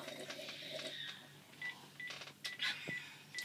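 A telephone number keyed in by hand, a string of short tones and soft button clicks in an uneven rhythm, fairly close, with faint background noise.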